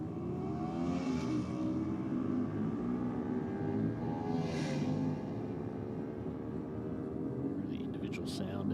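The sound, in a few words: Ducati twin-cylinder motorcycle engine passing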